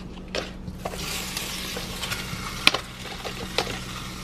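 Shrimp dropped into a hot nonstick skillet for shrimp fried rice, a soft steady sizzle with occasional clinks and scraping stirs, close and fairly quiet, with no talking.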